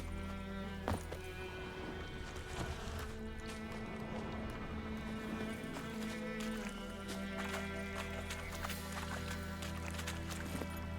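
Roach, a horse in the video game Witcher 3, gallops with a steady, rapid clip-clop of hooves that runs the full length at moderate loudness over a game's ambient backdrop.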